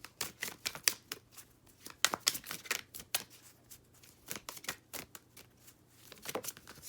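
Tarot cards being shuffled by hand close up, a run of quick crisp riffling and flicking bursts with short pauses between, fairly quiet and with no talking.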